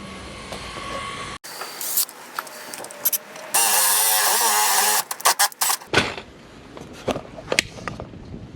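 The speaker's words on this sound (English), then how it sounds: "I will drill through the shear panel there." A drill with a wood bit whirs in bursts through a wood shear panel, with one sustained loud boring run in the middle, broken by clattering and handling noise.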